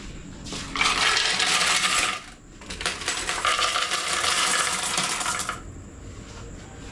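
Loose coins from a small shop's change supply pour and jingle in two long, bright metallic cascades, close and loud, with a short pause between them and faint clinks afterward.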